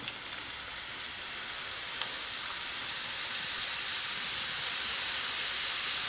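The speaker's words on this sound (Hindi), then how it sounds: "इसी तरह हम अपना सारा बैटर जो है फ्राई कर लेंगे" Boondi batter dripping through a slotted spoon into hot oil and frying, a steady, even hiss and crackle that holds throughout, close and moderately loud, with no talking.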